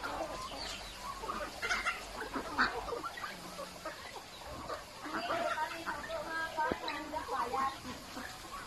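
Chickens cluck and call on and off near an old house, moderately close and somewhat faint, over a background of outdoor noise and a voice talking.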